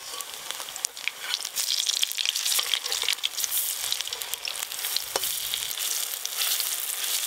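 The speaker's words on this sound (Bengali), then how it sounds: "ধীরে ধীরে পোস্তগুলো ভাজা হচ্ছে" Poppy seed fritters fry in oil in a rural kitchen, a close, continuous crackling sizzle with occasional louder pops and stirring sounds.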